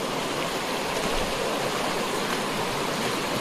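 River water rushing steadily past, a dense continuous wash of flowing current at close range with no voices, in a tiger reserve where the river has risen after rain.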